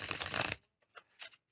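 Tarot cards being shuffled close by, a dense papery riffle lasting about half a second, then a few soft card taps and slides.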